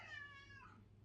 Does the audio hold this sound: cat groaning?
yes